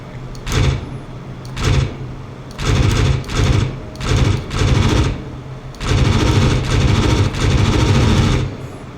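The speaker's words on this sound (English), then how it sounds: "Let's make another pass at that green smoke with guns." Corsair aircraft guns firing in the DCS flight game over the Mariana Islands, loud close bursts of rapid machine-gun fire in repeated short volleys, the last bursts longer, over a steady engine drone.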